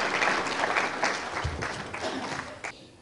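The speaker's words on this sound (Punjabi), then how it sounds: "ਇੱਕ ਵਾਰ ਜ਼ੋਰਦਾਰ ਤਾੜੀਆਂ ਦੇਵ ਖਰੌੜ ਦੇ ਲਈ" An audience gives loud, sustained applause for a Punjabi film actor at an event, dense clapping that gradually tapers off over a few seconds.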